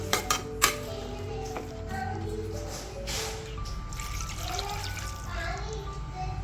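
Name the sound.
water poured into cooking pot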